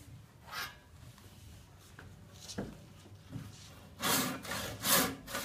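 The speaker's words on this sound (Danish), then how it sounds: "Så tager vi saven." A hand saw cuts through a piece of wood clamped for a woodworking project to build an owl, with soft scattered strokes at first and then louder rasping strokes near the end.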